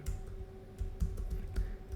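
Keys clatter on a computer keyboard as a search word is typed, a quick run of close, crisp taps over a low steady hum, with no one speaking.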